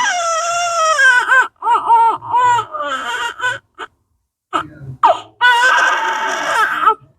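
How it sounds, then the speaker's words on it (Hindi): A newborn baby cries in a hospital maternity ward, with repeated wailing bursts broken by short pauses, loud and close, and a brief gap of near silence midway. "ये एक सुकून भरी किलकारी है"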